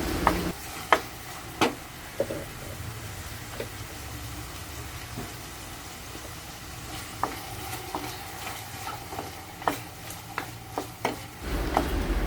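Onion and tomato being sautéed in a pan, a low, steady sizzle broken by occasional sharp clicks of a spatula against the pan.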